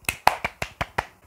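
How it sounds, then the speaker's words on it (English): Children and a teacher clap for a parrot during a pirate-themed story: six crisp, evenly spaced claps, close and distinct, with short silences between them. "The children and Miss Melody clap for Poppy."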